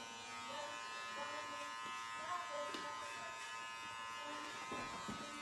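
Electric hair clippers with a number 3 guard buzz steadily while trimming the side of a child's head at home, a close, faint motor hum with small changes in pitch as the blades move through hair.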